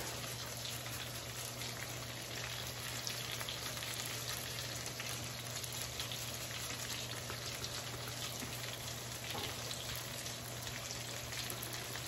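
Chicken cutlets sizzle steadily in a hot pan, a dense, even crackle of frying fat with a low hum beneath, continuous and close with no talking.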